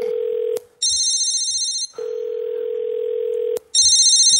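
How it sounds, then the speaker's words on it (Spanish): A telephone rings in loud, repeated electronic bursts, alternating with a steady lower tone, close by in a quiet room with no talking over it. "por ahí le está sonando un teléfono"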